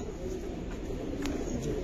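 A Giribaz pigeon coos softly and low against a steady hiss of background noise, a faint, murmuring call running through the short stretch without clear breaks.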